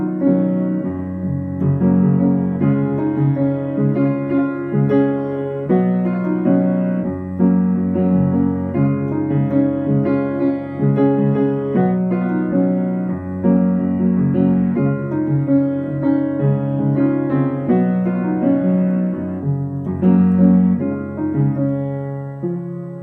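Solo piano playing the chorus of a song, a repeating three-chord progression struck in steady, full sustained chords, loud and close with no voice over it.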